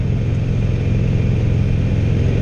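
A 2016 Harley-Davidson Roadster motorcycle with a 1200cc engine idling close by, a steady loud low rumble with an even throbbing pulse and no revving.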